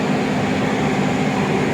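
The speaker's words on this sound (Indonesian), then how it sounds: "kereta Brawijaya akan berangkat lagi menuju stasiun berikutnya" Brawijaya passenger train at Kediri station, a steady broadband rumble of the train running or idling close by, continuous and even throughout with no voices.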